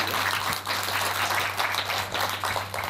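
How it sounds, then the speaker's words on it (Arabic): Audience applause for a girl named Asmaa as she steps up on a children's show, a steady wash of many hands clapping at moderate level with a low hum underneath, no speech. "تصفيق عليها تحت"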